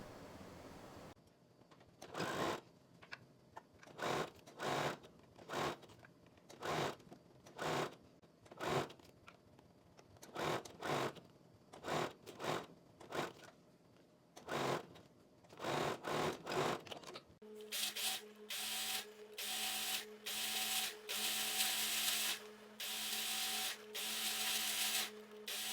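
A home sewing machine stitches a seam on a dress in bursts, with short stops between runs, then a steadier, louder whirring stretch in the second half that may be an overlocker.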